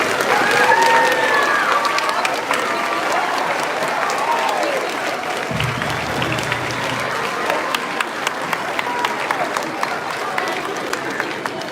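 An audience at a middle school eighth-grade graduation claps steadily for several seconds, a dense wash of applause that continues without pause before thinning slightly toward the end.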